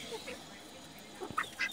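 Several ducks quack at a distance in short, faint calls near the end, heard in a dirty pen where the owner hand-feeds birds, with quiet background noise.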